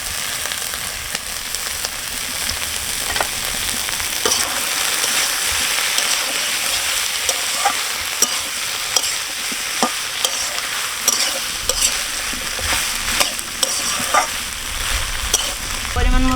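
Shrimp sizzle and spatter in hot oil in a pan with kachur loti, a steady loud frying hiss broken by sharp pops and stirring scrapes, no voices.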